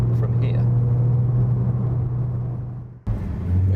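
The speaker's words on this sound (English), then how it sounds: "Okay, so we'll start off on track in the Cayman S." A Porsche Cayman S driving on the track at Silverstone, its engine a steady low drone heard from inside the car that fades, cuts out briefly, then returns.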